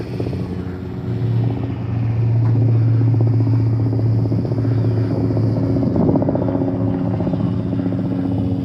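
An XK WLToys Rearbear F8F Fighter micro RC plane flies close by with a steady loud buzzing motor whine that swells after the first second and holds, wind rumbling underneath.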